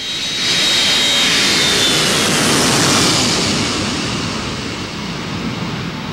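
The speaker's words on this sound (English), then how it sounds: "It makes use of the new CFM56 engine" A Boeing E-6 aircraft powered by CFM56 jet engines roars loud and close, a steady broadband whoosh with a faint whine that swells and slowly eases as it passes.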